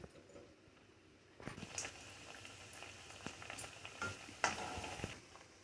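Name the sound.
puri of rajgira and singhara flour frying in oil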